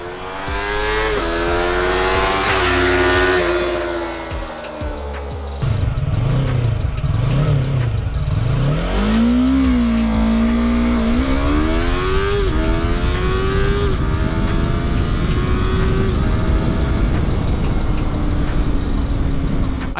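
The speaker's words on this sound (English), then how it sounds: "I did a single 0 to 100 test, and this comes from a person who never launched this motorcycle before." Yamaha R3 motorcycle launching in a 0 to 100 run, loud engine climbing through rising revs with gear shifts marked by brief dips, then pulling hard at high revs for the rest of the clip.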